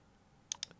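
A few crisp computer keyboard keystrokes, three quick clicks in an uneven burst after a quiet pause, close and fairly soft.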